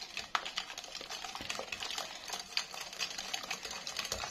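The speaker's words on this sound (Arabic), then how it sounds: "هنا بعد ما خلطت البيض والسكر غادي نضيف الزيت، وانا كنخلط" Eggs and sugar are mixed together for mini cake batter, making a continuous, fairly quiet whirring, rattling churn that runs steadily throughout.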